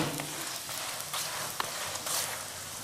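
Flatbread pan-frying in plenty of oil gives off a steady, fairly quiet sizzle with scattered small crackles and pops throughout, and no talking.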